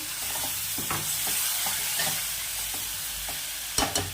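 Cluster beans (guar) sizzle in oil and spices in a pan after a splash of water goes in. A steady close hiss runs throughout, with light stirring clicks and a sharper scrape and rattle near the end.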